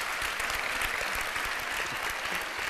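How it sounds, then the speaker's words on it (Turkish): A television studio audience claps together, a dense, even burst of applause filling the room for under three seconds with no voices over it. "Ya bir alkış alalım abi"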